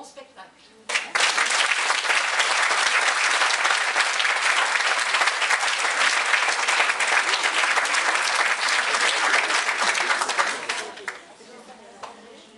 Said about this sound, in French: je vous demande de les applaudir très très très fort